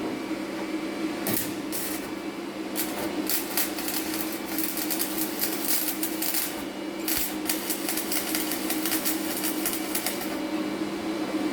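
Stick welding a butt seam on steel plates in the flat position, a close, continuous crackling arc with rapid irregular bursts of spatter over a steady buzzing hum.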